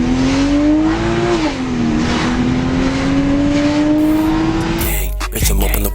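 BMW E90 fitted with a DIY cold air intake, engine held at a loud steady rev with slight pitch shifts, then cut off abruptly near the end by clattering noise.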